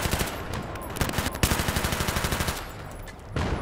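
Gunfire in Battlefield 3 during the co-op mission Operation Exodus: loud, close bursts of rapid automatic shots with brief gaps between volleys.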